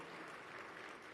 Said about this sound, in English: Please let's welcome him with a warm round of applause.